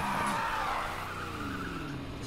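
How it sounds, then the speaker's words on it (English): Tires skid and squeal through a handbrake turn in the racing game Need for Speed Heat, a loud, sustained screech with engine roar that starts sharply and slowly fades over a couple of seconds, with no voices. "I'm using the handbrake for most of these turns"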